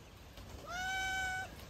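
A kitten gives a single clear, drawn-out meow up close, rising and holding its pitch for nearly a second over faint background noise.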